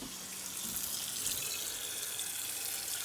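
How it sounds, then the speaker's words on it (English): Water runs steadily from a tap, a bright continuous splashing hiss that stays even throughout with no voices. "Now we add water."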